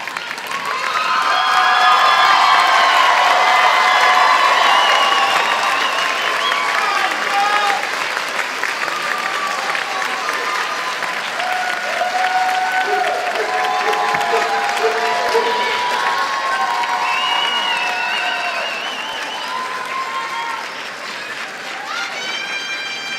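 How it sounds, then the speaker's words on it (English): Sustained loud applause from a standing audience honouring graduates at a health science programs graduation ceremony in an auditorium, with cheering and crowd noise rising and slowly fading. "if everyone could please stand for a final round of applause for our graduates"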